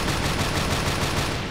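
An AA-12 Platinum automatic shotgun fires in the online shooter Special Force in a loud, dense, unbroken burst of rapid shots that lasts about a second and a half.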